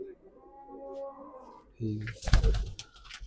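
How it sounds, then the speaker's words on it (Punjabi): Soft, low cooing from Fauji Butari dabba pigeons of a broken-beak bloodline, with someone talking over the start and a burst of louder rustling noise near the end. "ਕਿੱਦਾਂ ਲੱਗੇ ਬਾਈ ਦੇ ਕਬੂਤਰ"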